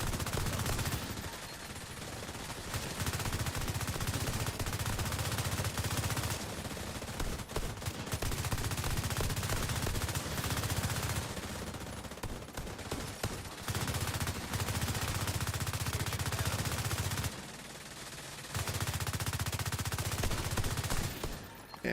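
Rapid automatic gunfire in The Division 2, long sustained bursts of loud firing separated by brief pauses, layered with game effects, dense and continuous over twenty seconds.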